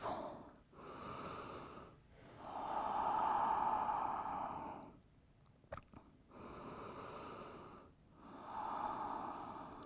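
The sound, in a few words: breathing during yoga child's pose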